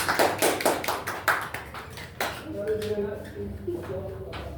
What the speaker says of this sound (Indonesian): Ini tepuk tangan untuk ini.